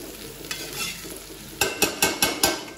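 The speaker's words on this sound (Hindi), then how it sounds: "इसको करना है मिक्स।" Shredded chicken being stirred into capsicum in a hot pan, with a quiet sizzle followed by five loud, rhythmic scraping strokes of the spoon close up near the end.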